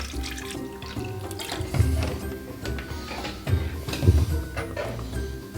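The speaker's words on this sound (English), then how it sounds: "And let's just pour it in here." Bottled water is poured into the tank of a personal air cooler, a close, steady gurgling trickle with faint mechanical clicks and hum underneath.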